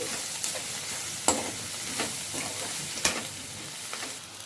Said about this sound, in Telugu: మళ్ళీ ఒకసారి మంచిగా కలిపేసుకోవాలి.